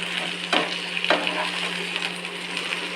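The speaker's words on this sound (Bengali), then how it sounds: "পেঁয়াজের সাথে ভাজিয়ে দিয়েছি" Vegetables frying with onion in a pan for a fish curry with drumsticks, potato and eggplant, a steady close sizzle with a few sharp stirring scrapes, no voices.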